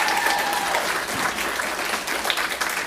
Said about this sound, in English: Y'all can clap on that.